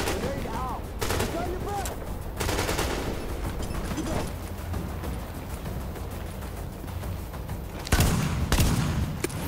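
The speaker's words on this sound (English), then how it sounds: "Oh shit, there's a sniper." Sniper fire and scattered gunshots ring out in a combat firefight in The Division video game, sharp loud reports at intervals, with a heavier blast near the end, amid busy game noise.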